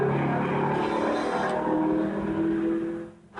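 A light Spyder sports car, about 500 kilos with big drum brakes, accelerates with a loud, steady engine drone that holds close and strong for about three seconds before dipping briefly at the end.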